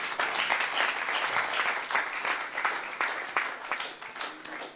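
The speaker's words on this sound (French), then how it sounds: "Come on, acclamez pour Jésus." A church congregation claps and applauds in praise of Jesus, a dense, steady wash of many hands, loud and sustained throughout, with no talk over it.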